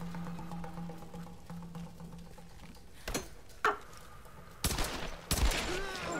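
Gunfire in the Tomb Raider video game: four or five sharp, loud shots crack at uneven intervals over a low, humming background, the last few coming closer together.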